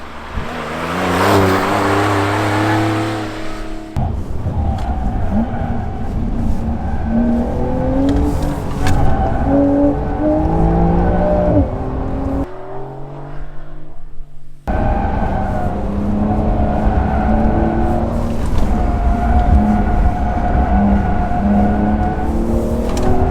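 Porsche sports cars, including a Cayman GT, race hard around a track, engines revving loudly and continuously with rising and falling pitch as they accelerate, shift and sweep past close by.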